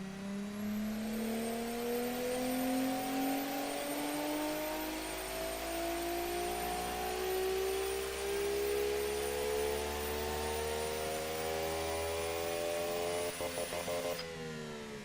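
A turbocharged car engine in the racing and car-design game Automation revs steadily, its rising harmonic whine sweeping upward over about fourteen seconds, loud and continuous with no talk, before cutting off near the end.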